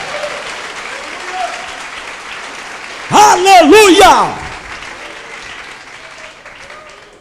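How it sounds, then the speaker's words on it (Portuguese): Church congregation at a Baptist service breaking into a short burst of loud applause and cheering that lasts about a second, following preaching and a shouted exclamation; the sermon voice carries on before and after. "Se Deus está falando, aplauda Ele agora, em nome de Jesus."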